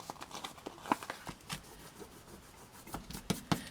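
Glue being rubbed off card in a scrapbook journal, a run of quiet, dry scuffing strokes with a few sharper rasping bursts near the end, close and faint with no talk.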